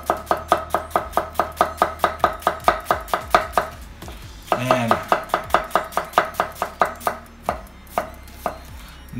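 An onion is chopped on a cutting board with a Mercer Culinary MX3 santoku knife: rapid, even knife strikes in a steady run, a brief pause with a knock, then another evenly paced run, close and alone.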